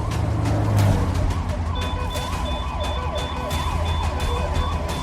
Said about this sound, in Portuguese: A ambulância arranca.